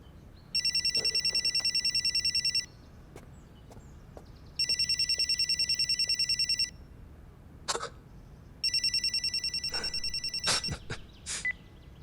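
A telephone rings in three bursts of trilling electronic bells separated by pauses, with a few soft knocks and clicks between rings.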